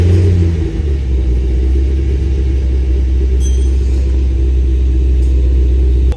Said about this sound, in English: Today we have some Escalade V footage to you, and you can hear it. It's got a little bit more rumble in it now.